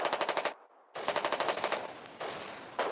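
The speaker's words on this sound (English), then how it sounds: "I did hear a Typhon firing earlier." Heavy machine-gun fire from a Typhon in the Foxhole war game, rapid bursts of shots near and loud, a short pause, then further sustained bursts and a final burst at the end.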